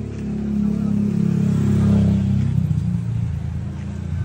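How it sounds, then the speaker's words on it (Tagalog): A passing motorcycle's engine rumbles loudly and steadily, building toward the middle and then easing off as it moves away. "May motor na naman."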